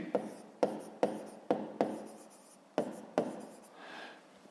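Pen writing on paper while a math exercise is worked out, a series of about seven quick scratchy strokes with short pauses between them, close and crisp, ending in a softer drawn-out stroke.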